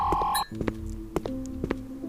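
A video game countdown timer runs out and sets off an alarm: a sharp high beep gives way to a steady low pulsing tone, under occasional clicks.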